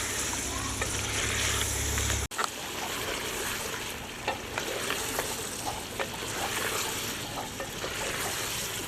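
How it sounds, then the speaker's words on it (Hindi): Boiled chicken karahi with garam masala sizzles steadily in a pan as it is stirred, with scraping strokes over a constant loud fry that briefly cuts out before resuming. "चिकन को भूनते हुए पकाते हुए मुझे 6-7 मिनट हो गए हैं।"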